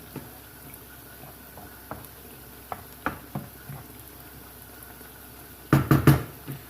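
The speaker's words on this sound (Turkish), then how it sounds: "patlıcanlarımızı kızartmaya başladık şimdi" Eggplants frying in a pan for musakka, with soft intermittent sizzling and a few scattered pops, then a louder burst of crackling spatter near the end.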